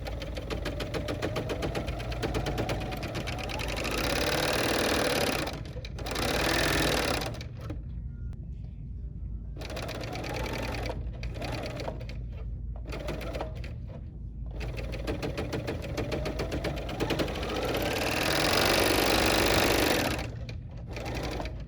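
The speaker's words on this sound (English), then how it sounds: "we're going to feed this through the overlocker machine" An overlocker sewing machine stitches through pleated fabric in loud, rapid mechanical bursts, stopping briefly several times before running on again, up close with no voices.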